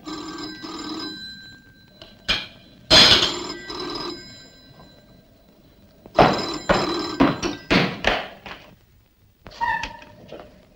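A telephone in a 1972 Hindi film scene rings in several bursts, with thumps and other room noises between the rings, fairly loud and close with no speech.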